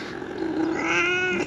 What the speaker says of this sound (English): the cat's here